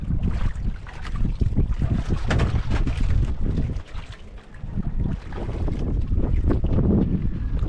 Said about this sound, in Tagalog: Lakas ang hangin mga idol.